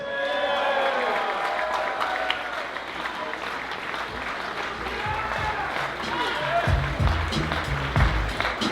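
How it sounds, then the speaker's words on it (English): Sustained audience applause fills the hall at a company Christmas party, steady crowd clapping mixed with some cheering, heard over continuous crowd noise throughout. "Let's get one more round of applause"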